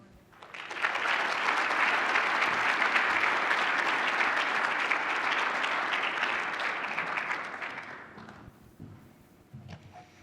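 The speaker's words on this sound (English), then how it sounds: "Please give everyone just an amazing round of applause again for such an esteemed group." Sustained audience applause at a structural engineering awards ceremony, many hands clapping loudly and evenly for about seven seconds before tapering off, with no talk.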